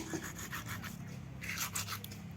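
Koi fish being scrubbed by hand, a close, quiet rhythmic rubbing and scraping in short repeated strokes, with no talking.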